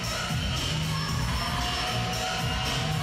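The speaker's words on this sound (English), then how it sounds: "Good crowd in for the evening game." A full gym crowd at an evening women's EuroBasket game between Russia and Greece roars and cheers in a steady, dense wash of voices throughout, with no clear talk above it.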